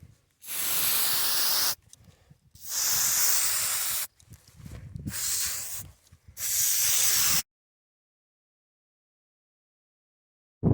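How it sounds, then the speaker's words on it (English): Grease sprayed onto the drive chain of a side roll irrigation line: four long, loud hissing bursts with short gaps between them, then silence. "let's get some grease on this chain"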